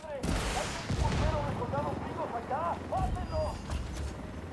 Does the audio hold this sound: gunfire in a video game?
yes